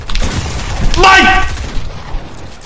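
Gunfire from a Fortnite gun in a competitive duos match, a loud burst of shots with a bright ringing tail, over game noise and players talking.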